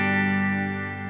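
Clean, undistorted chord from a Squier Affinity Strat HH electric guitar, ringing steadily on its own for about a second and fading slightly toward the end.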